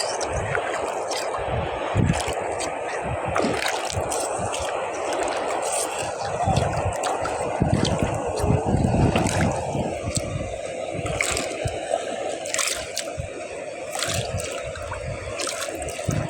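Water sloshing and trickling steadily throughout, a continuous wet churning close by with small splashes and drips, with no voices over it.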